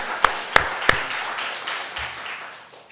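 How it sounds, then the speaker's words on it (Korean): In a Sunday church service, a congregation gives a few sharp, distinct claps in quick succession that ring briefly in the hall, followed by a fading, quieter room tone. "영광의 박수"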